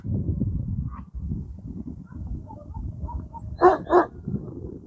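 A dog on a wall in the village of Güzelyurt in Cappadocia gives two loud, close barks in quick succession over a low rumbling background of footsteps and outdoor noise.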